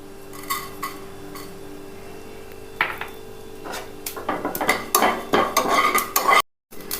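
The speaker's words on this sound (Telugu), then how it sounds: "తర్వాత జీలకర్ర వేయించుకోవాలి." Cumin seeds being dry-roasted in a clay pot after coriander seeds, with a spoon stirring and scraping against the pot in irregular clinks and rustles, close and fairly quiet, growing busier toward the end.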